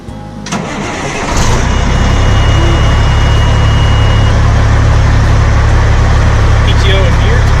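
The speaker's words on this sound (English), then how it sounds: "So, I'm gonna start this truck up. It's going to be a little noisy." A truck engine cranks and catches, then settles into a loud, steady rumbling idle close by.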